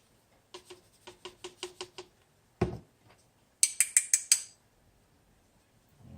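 A powder trickler dispensing powder while reloading .223 rounds gives a run of quick, evenly spaced mechanical clicks, then a sharper knock and a short burst of brighter, higher ticks, close up with no talking.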